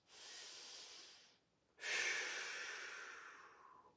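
Slow breathing during an upper-body warmup, two long airy breaths through the nose, the second a drawn-out exhale fading gradually, close and quiet with no talk.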